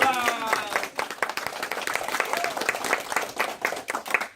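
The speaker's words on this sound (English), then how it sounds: "Give her a round of applause." An audience at an elementary school American Revolution walk-through event, put on by fifth graders, breaks into lively clapping just after a voice trails off, the applause staying close and even throughout.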